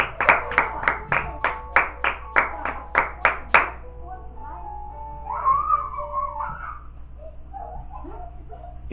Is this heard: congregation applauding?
yes